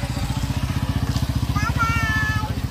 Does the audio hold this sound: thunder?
no